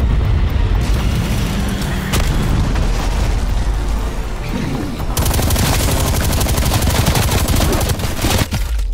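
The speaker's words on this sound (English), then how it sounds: "Their cruise missile launched." Cruise missile launch in Call of Duty Cold War Zombies, heard as a loud continuous roaring blast with booming explosions and rattling gunfire layered throughout, a sharp surge partway through.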